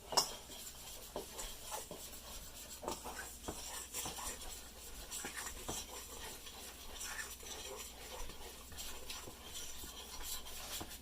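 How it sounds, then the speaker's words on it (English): Dry biscuit ingredients with two teaspoons of sugar being stirred in a bowl, a steady scraping and rubbing with light clinks of utensil against the dish, continuous and close throughout. "And then you stir it up."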